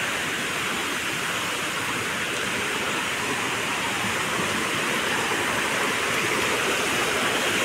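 A forest waterfall at Panjoli in the Konkan roars in a steady, dense wash of falling water, loud and continuous throughout with no voices over it.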